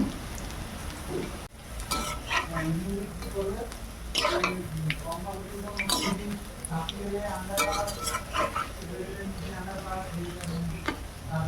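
Pakoras frying in a pan of oil, a soft steady sizzle broken by spoon stirring and clinks of utensils against the pan, with a voice talking over the cooking.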